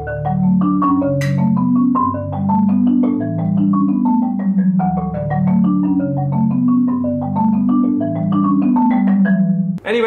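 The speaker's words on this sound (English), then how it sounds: "here is my duo, my brand new 5-octave marimba duo" A newly written duo for two five-octave marimbas plays alone: steady rippling mallet patterns with warm low bars ringing under brighter upper notes, continuous and close, ending with a sudden cut.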